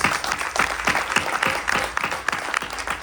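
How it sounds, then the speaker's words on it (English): An audience at a Ganesh Chaturthi celebration applauds the parents, with rhythmic, fairly even clapping that runs the whole stretch at moderate volume and has a slightly pulsing beat. "Clap for those parents."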